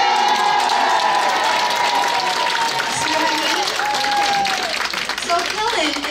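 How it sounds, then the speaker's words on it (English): A large crowd cheers and applauds continuously at a Lunar New Year celebration in Nassau County, the clapping and shouts loud and sustained, with a voice speaking over the ovation. "She has half the crowd cheering for her here."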